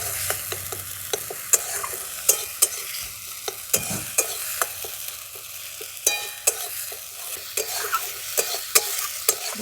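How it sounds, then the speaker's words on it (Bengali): Garlic and ginger paste fry in a hot pan with a steady loud sizzle, punctuated by sharp scraping clicks as a spatula stirs the spices, close up and without talk. "এগুলো সব আমি ভালো করে ভেজে নেব"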